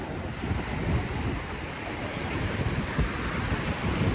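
Ocean waves wash steadily onto a beach in a continuous broadband roar, with wind buffeting the microphone throughout and no voices.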